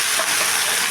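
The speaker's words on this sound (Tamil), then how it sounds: "இந்த ஸ்டேஜில் நம்ம சிக்கன் போட்டுக்கலாங்க." Chicken pieces fry in a pan with garlic, curry leaves and a large onion cooked until soft, giving a steady, close hiss of oil with no break.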